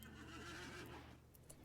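A horse neighs in the video game RimWorld, a single drawn-out whinny that fades near the end, fairly faint and with no talking.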